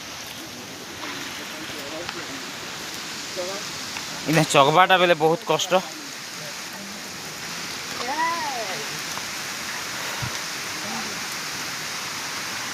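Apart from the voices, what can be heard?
water flowing down from a hill waterfall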